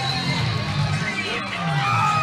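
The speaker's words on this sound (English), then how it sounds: "and this crowd is loving it" Arena crowd at a VALOR Fights MMA event cheering and roaring after a second-round TKO win, a steady dense wash of voices that stays loud throughout with no individual words standing out.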